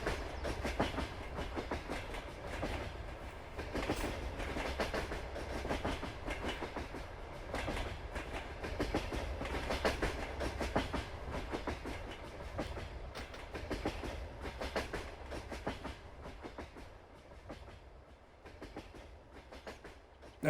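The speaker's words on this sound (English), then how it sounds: "It only takes a few minutes to pass. It's a very long train." A very long freight train rolls past in the Farming Simulator 22 game, a continuous rumbling clickety-clack of wagons at moderate distance, steady throughout with no voices.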